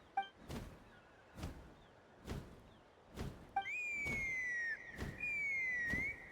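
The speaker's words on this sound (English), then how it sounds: "That sounded like a whistle." Two rising-and-falling whistle tones in the Genshin Impact video game sound over a quiet bed of faint, evenly spaced soft thumps, like wingbeats. The second whistle arrives about midway and holds for a couple of seconds.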